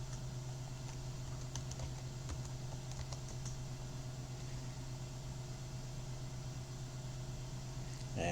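A password is typed on a computer keyboard in short bursts of soft, close key clicks during the first few seconds, then a steady faint hum continues.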